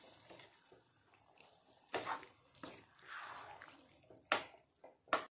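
Hot water pours into a pressure cooker holding pav bhaji vegetables, faint and intermittent, with short splashing gushes and trickles over a quiet kitchen background.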